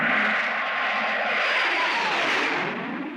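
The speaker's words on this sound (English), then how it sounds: "The Spectrum helicopter is overflying the motorcade." A Spectrum helicopter passes overhead above a motorcade, its steady engine and rotor roar loud and continuous before easing slightly toward the end.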